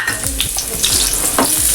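Onion dropped into hot oil in a pan on a lowered gas flame, a loud close crackling sizzle with a few stirring knocks across the short stretch, no speech.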